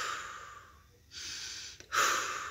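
Deep breaths are drawn in and let out during a guided meditation: quiet airy inhales and exhales, then a louder, fuller exhale at the end, with no talk.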